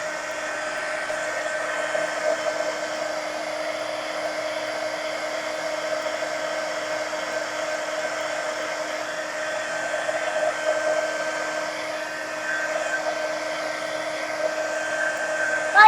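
A handheld dryer blows hot air over an art journal page, a steady whirring drone that holds unchanged at close range for about sixteen seconds with no talking.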